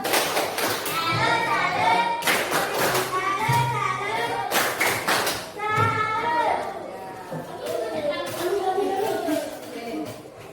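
A primary school class claps a rhythmic 'tepuk salut' chant together, with patterned bursts of clapping mixed with children's chanting voices throughout.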